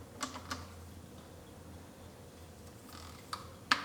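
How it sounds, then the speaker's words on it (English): A ratchet tightens the oil filter cap on a Lexus IS250, giving a few quiet, sparse clicks spread out over a faint background, ending with one sharper click. "then we'll finish tightening it up with our ratchet"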